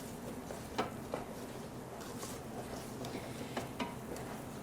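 A spoon stirs choux pastry paste in a pot on the heat, with a soft, steady scraping texture, faint sizzling and a few light taps against the pot, quiet and close.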